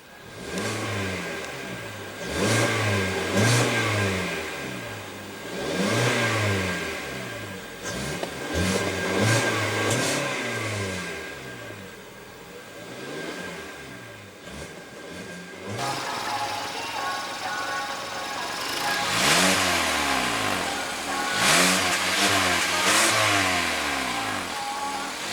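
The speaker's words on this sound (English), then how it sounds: "And let's go ahead and rev it up." A 2016 Kia Optima's 2.4-litre four-cylinder engine revs repeatedly, rising and falling in steady, evenly spaced bursts from a low idle, heard up close with no talking.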